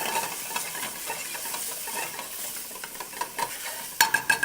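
Onions and potatoes sizzle steadily in a pan while being stirred, with scraping strokes throughout and a few louder clinks near the end; no voices.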